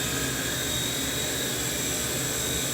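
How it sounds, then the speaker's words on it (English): A T-REX 100S remote-control helicopter with fixed pitch flies indoors, giving a steady high-pitched whine from its small motor over a continuous whirring rotor buzz that holds constant throughout. "It's a great helicopter. You can fly it indoors."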